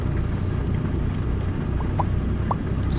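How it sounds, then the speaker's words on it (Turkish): Rain in Euro Truck Simulator 2 while driving a Mercedes Actros truck: steady dense patter over low engine rumble, with a few faint ticks, continuous and fairly loud. "yağmur efekti de değişmiş"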